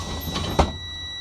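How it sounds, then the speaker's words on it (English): A bus door swings shut with a single soft thud and brief rattle, near and alone over a steady low engine idle hum. "Close the door."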